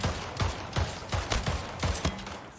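Rapid gunfire in Splitgate, a handful of sharp, loud shots in quick uneven bursts over about two and a half seconds, with no talking over them.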